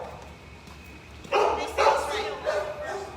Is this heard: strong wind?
no